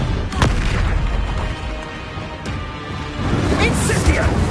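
Repeated Expulso explosion spells from Hogwarts Legacy on PS4 go off as loud booming blasts amid a busy battle, with a voice speaking over the dense, continuous combat noise.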